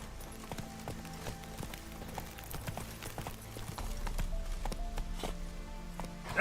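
Roach, Geralt's horse in The Witcher 3, gallops with quick rhythmic hoofbeats over a low music bed, the hooves growing a little louder toward the end.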